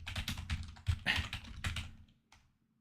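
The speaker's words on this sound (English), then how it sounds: "I'll type it out." Quick bursts of clicky typing on a computer keyboard, close and fairly quiet, in short irregular runs that trail off into a brief pause and a final few keystrokes.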